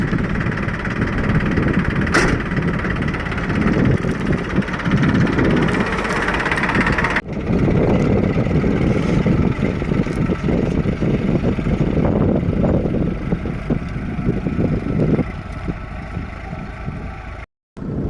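A farm tractor's engine runs with a steady, loud mid-pitched drone and rough idling pulses, briefly dipping once before resuming and then cutting off abruptly near the end; no voices are present.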